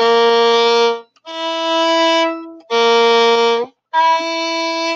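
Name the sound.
string instrument playing a shifting interval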